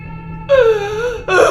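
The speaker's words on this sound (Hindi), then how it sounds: "रोने की आवाज़ आती है।" A voice wails and moans in a drawn-out, wavering cry, used as a sound effect in a spoken horror story, with a short pause before a second sob.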